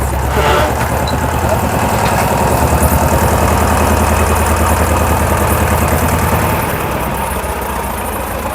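A tractor engine runs steadily at a brick-making site, giving a continuous low diesel rumble and vibration that stays loud throughout, with faint voices in the background.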